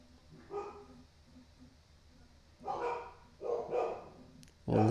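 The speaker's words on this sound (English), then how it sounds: "And the dogs are barking." Dogs bark in a few loud bursts near the end, over low steady background noise with no talking.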